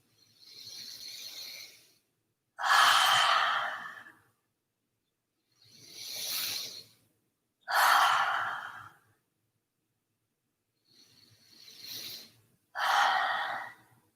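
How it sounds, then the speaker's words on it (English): Three forceful open-mouth exhalations of yogic lion's breath, each preceded by a softer inhale, spaced about every four to five seconds, close and clear in a quiet room. "a few more lion's breaths."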